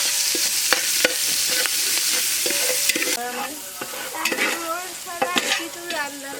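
Chopped ash gourd sizzles in hot oil in a pan for a village-style shrimp curry, while a spoon scrapes and stirs it in repeated close strokes. The frying hiss runs steadily throughout, with no voices.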